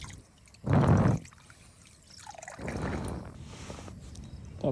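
Water poured out in a short splashing burst at a campsite washing area, followed by a softer, longer trickle and dribble, close by with no talk.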